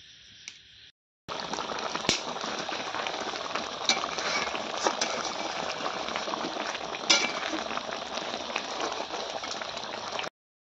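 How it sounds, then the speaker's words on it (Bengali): Pangas fish curry bubbling in a pot, a dense continuous simmering and sputtering hiss with occasional sharp clinks, steady and close for about nine seconds after a brief quieter start. "আজকে আমাদের রান্না হবে পাঙ্গাস মাছ"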